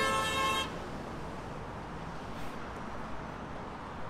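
Car horn honking on a road, one sustained toot at the start, then quiet traffic background.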